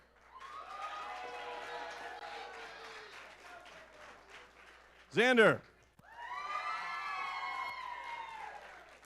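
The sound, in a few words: applause and cheering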